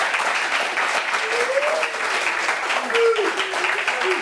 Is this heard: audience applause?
yes